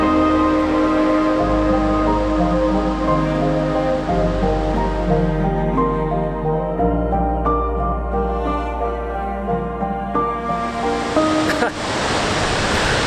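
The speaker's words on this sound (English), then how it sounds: "It's the second biggest waterfall in Africa, called Blue Nile Falls" Blue Nile Falls in Ethiopia, Africa's second biggest waterfall, sends a steady broadband roar across a hillside, heard continuously beneath louder music, with the rushing noise swelling again near the end.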